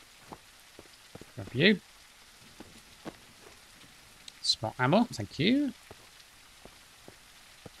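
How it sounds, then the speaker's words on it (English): Rain falls steadily in the Mist Survival game world, a soft continuous patter beneath a man's speech. "It's raining."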